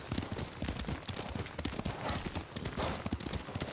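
Horse hooves gallop in Ghost of Tsushima, a fast, dense drumming of hoofbeats close up that runs the whole time, with faint game sounds behind.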